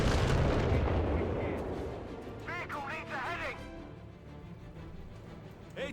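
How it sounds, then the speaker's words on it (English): Mines and air assaults exploding in the Company of Heroes 3 strategy game, a heavy burst of booms rolling into sparse blasts while a caster talks over the action. "Air assaults go off. Mines going off."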